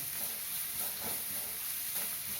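Finely chopped large onions sizzle and fry in hot oil for a spicy Hyderabad-style egg masala, a steady close hiss that swells briefly as they are stirred.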